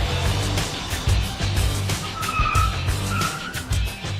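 A Tesla electric car accelerates hard, its tires squealing in long, loud skids with a steady rumbling roar underneath and no talk.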